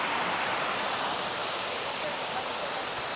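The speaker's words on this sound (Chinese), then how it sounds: "看看这个溪水" A mountain stream runs through an old mountain village in Liuyang, Hunan, making a steady, close rush of water that continues evenly with no pauses and no voices over it.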